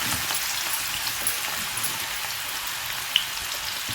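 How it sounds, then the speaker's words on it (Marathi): Bitter gourd (karela) frying in hot oil on a high flame, giving a loud, dense, continuous sizzle with a single brief click near the end, no voices. "मोठ्या गॅसवरच आपल्याला हे कारले तळायचे आहेत"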